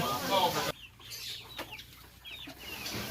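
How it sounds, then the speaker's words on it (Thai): Hens clucking in a coop of about 25 egg-laying hens on a farm, a few soft, scattered clucks near and far, with a louder burst of noise at the start. "ในเล้านี้ก็มีแม่ไก่สำหรับผลิตไข่เชื้ออยู่ 25 ตัวครับ"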